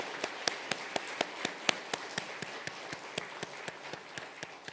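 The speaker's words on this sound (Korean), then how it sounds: "박수로 환영하겠습니다" A church congregation at a Sunday worship service claps steadily, sharp individual claps standing out in an even rhythm over a continuous patter of hands, moderately close.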